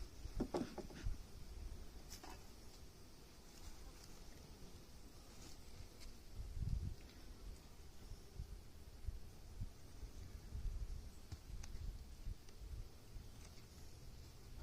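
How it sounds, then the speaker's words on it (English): Honeybees swarm around an open, full hive with its inner cover off during candy board installation, a steady low buzzing drone throughout with a few brief louder swells, no talking. "that's a lot of bees on that inner cover"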